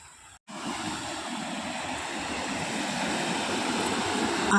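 Fresh, clear water flows along a hillside stream in a steady, close rushing wash that rises slightly toward the end, with no talk over it.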